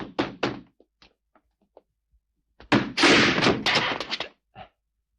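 Several heavy thuds and bangs come in bursts, followed by a loud, sustained crash of splintering and rattling as a door is battered and forced open, in a historical drama.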